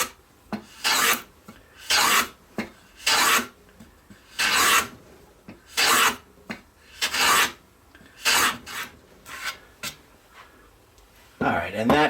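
A wooden part for a retro toy phone is tapered by hand with a rasp or file, a dozen or so short scraping strokes in an uneven rhythm, close and fairly loud with quiet gaps between.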